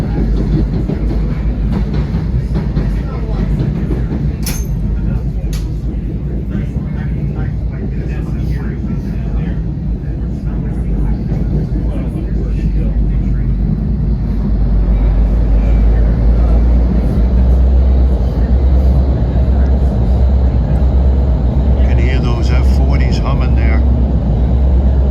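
NJ Transit train running toward the Bergen tunnels on a 40th anniversary special between New York, Bay Head and Hoboken, a steady loud low rumble and roar throughout, swelling louder in the second half, with voices talking over it.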